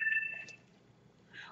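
A mobile phone gives a short electronic alert tone, a bright beep held for about half a second at the start, followed by quiet room noise and a brief second chirp near the end.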